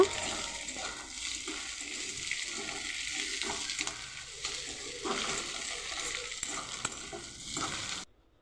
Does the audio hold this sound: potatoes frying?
yes